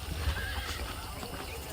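Horse hooves in the Red Dead Redemption video game, a steady clip-clop under a continuous game soundscape with brief whinny-like tones, fairly quiet overall.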